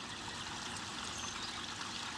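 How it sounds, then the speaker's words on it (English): A finished garden water feature trickles and splashes steadily, a constant broadband wash of flowing water with no pauses, fairly quiet and heard alone without voices. "my water feature was finished"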